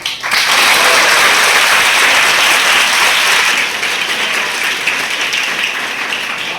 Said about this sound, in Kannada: ಅವ್ರಿಗೊಂದು ದೊಡ್ಡ ಚಪ್ಪಾಳೆ ಹಾಕಿ